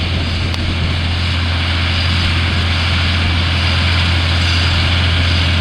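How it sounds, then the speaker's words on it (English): Onion harvesting machine working a field and loading onions straight into a trailer, a loud, steady mechanical engine drone with a constant low hum and broadband rumble that runs unbroken and close. "This one just comes along and picks them up and put them straight into the trailer."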